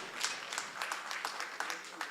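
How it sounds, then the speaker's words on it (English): Temple devotees give a short burst of applause for the pujaris, a steady patter of many hands clapping at moderate distance, with a voice over it. "Let's give a big round of applause to our pujaris for doing a marvelous"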